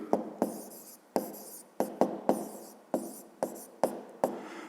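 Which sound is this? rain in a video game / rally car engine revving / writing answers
writing answers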